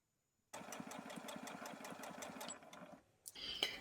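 A domestic sewing machine runs steadily from its start-stop button, a close, rhythmic mechanical whirr with regular needle strokes that halts abruptly, followed by a brief clunk and rustle.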